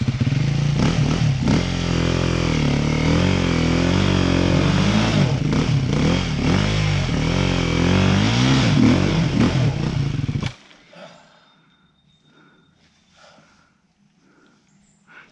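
Off-road vehicle on a rain-soaked trail, its engine revving hard and loud with clattering as the wheels spin on rocks, then cutting off abruptly to near silence with faint rustling.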